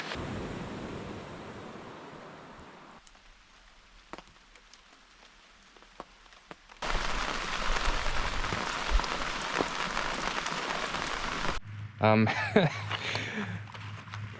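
Torrential West Coast rain on northern Vancouver Island in September: a steady, dense hiss of heavy rainfall that swells louder partway through, sounding close and continuous.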